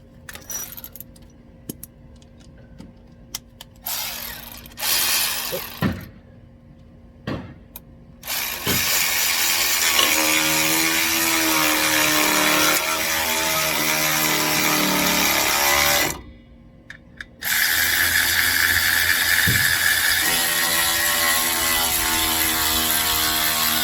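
Ratchet turning a screw to force a rusted brake rotor off a 2004 Toyota Sequoia, loud, close rapid clicking in long sustained bursts with short pauses between, no talk.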